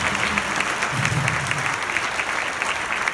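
Crowd applause at a Christian band concert, a dense, sustained clapping that holds at an even level, with a brief low murmur of voices partway through.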